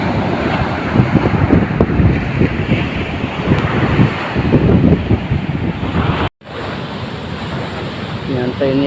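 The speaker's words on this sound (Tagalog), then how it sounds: "Ang lakas ng alon." Heavy surf from a typhoon crashes and roars on the Samar coast with strong wind buffeting the microphone, loud and continuous, a brief dropout near the end.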